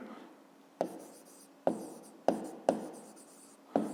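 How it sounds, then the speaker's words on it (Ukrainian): A pen or chalk taps and scratches in short, distinct strokes while a maths answer is written down, five sharp touches spaced irregularly and heard close up in a quiet room. "Отже, записуємо"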